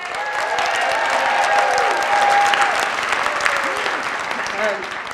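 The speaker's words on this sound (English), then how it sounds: "maybe if we cheer extra loud, they can hear us" A crowd claps and cheers loudly, sustained applause filling the room, with a few voices calling out above it.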